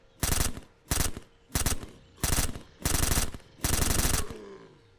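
Six rapid bursts of full-auto gunfire in SurrounDead ring out in an even rhythm, each a dense loud rattle lasting about half a second, the last burst longer and trailing off into a brief echo.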